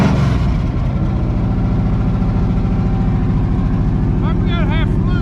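A 1979 Chevrolet C10 pickup's engine idles loudly and close by while warming up, with a steady, even rumble throughout and a brief higher whine near the end.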